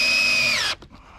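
A power drill whines loudly and steadily for under a second while driving screws into stovepipe for a wood stove in a backyard yurt, then cuts off abruptly, leaving faint rattling.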